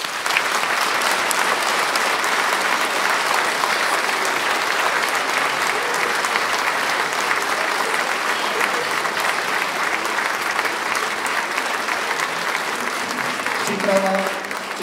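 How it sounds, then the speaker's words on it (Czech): Sustained, even applause from a concert audience at an advent school concert in a hall, many hands clapping steadily for the whole stretch, with a brief voice near the end. "Myslím si, že patří velký potlesk tady za to."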